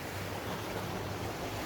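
Sea waves and wind wash steadily around a boat out on open water off a beach resort, a continuous broadband rush with low rumble and no pauses.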